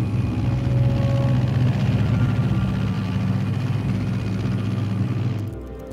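A plane's engine drones steadily in flight over Pakistan at high altitude in Metal Gear Solid 3: Snake Eater, a loud low continuous rumble with no talk, fading slightly at the very end.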